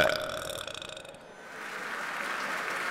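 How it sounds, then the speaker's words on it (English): A long, rumbling burp after a Super Fizz drink, loud at first and then trailing into a dip before noisy background resumes. "that's a very technical burp from the Russian here today"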